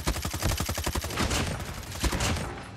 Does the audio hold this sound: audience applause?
no